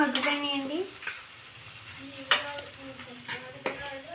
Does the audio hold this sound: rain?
no